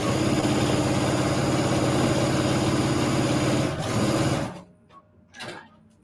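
A BQ3100 sewing machine stitches fabric for a quilt-as-you-go scrap strip cushion cover, a steady close whirring hum running for several seconds before stopping, followed by a couple of faint clicks.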